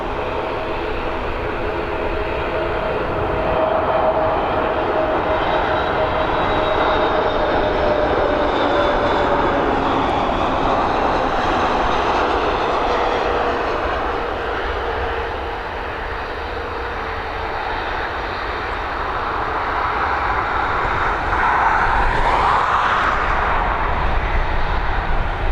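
An aircraft departs Dublin Airport with a loud, sustained jet engine roar that swells and shifts in pitch as it passes, then fades slightly and builds again with no voices.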